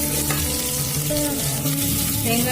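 Crushed garlic goes into hot oil with mustard seeds and curry leaves for rasam and sizzles loudly and steadily, with stirring throughout and some pitched tones in the background, and no one speaking.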